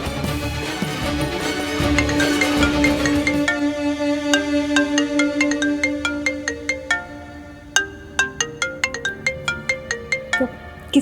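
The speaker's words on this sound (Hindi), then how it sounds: "किसका फोन है?" A bright electronic ringtone melody plays loudly and repeatedly, its tones chiming in a steady looping rhythm without any talking.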